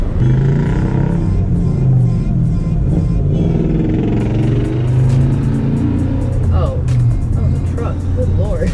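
A Jeep's engine and exhaust rumble and rev loudly and close up, with a deep, steady drone that swells and eases, and a voice talks over it.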